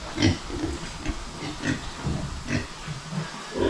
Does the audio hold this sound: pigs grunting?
yes